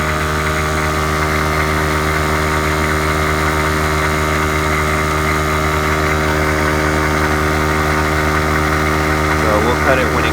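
A Harbor Freight air compressor runs steadily, pumping up vehicle tires toward 100 psi, with a constant motor drone and hum holding level throughout; a voice speaks faintly over it.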